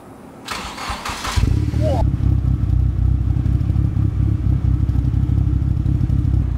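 A car with a full turbo-back exhaust system, including dump pipe, cat converter and rear muffler, starts with a brief whirring crank and then settles into a loud, deep, steady idle rumble close by.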